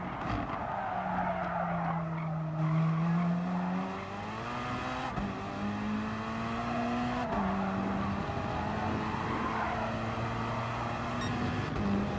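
Gr.3 race cars in Gran Turismo Sport lapping Interlagos: a steady, loud engine drone with rising and falling pitch through gear changes and corners, tires squealing at moments, continuous with no talk.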